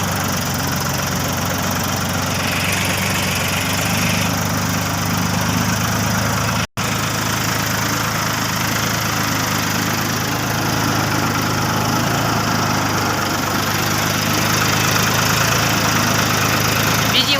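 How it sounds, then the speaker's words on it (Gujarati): Tractors drive along in a line, their engines giving a steady, unbroken low rumble with faint knocking, close and continuous throughout, with only a brief dropout midway. "ટ્રેક્ટર લાઈન પાછા હાલી નીકળ્યા છે અમે પાછા"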